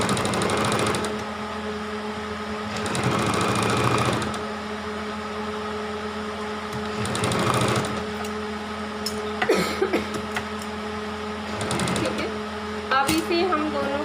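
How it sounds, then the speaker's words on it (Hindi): Sewing machine stitching elastic onto a two-year-old baby's frock, running in steady bursts with a continuous motor whir and pauses between runs, with occasional handling clicks. "यहाँ से इलास्टिक को बिल्कुल किनारे के पास में करते हुए अब हम यहाँ से भी स्टिचिंग लगा लेंगे"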